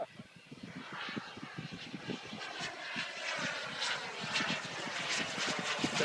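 SkyMaster Viper RC jet with a P160SE turbine engine on its maiden-flight landing, giving a steady engine whine with pulsing rumble that grows gradually louder over several seconds.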